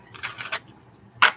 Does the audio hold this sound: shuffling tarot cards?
yes